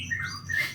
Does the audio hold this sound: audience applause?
no